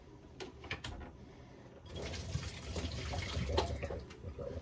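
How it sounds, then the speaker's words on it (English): A whisk rinsed under hot running water, a steady splashing wash that starts quietly and swells to a full, continuous rush. "Rinse off the whisker with hot boiling water."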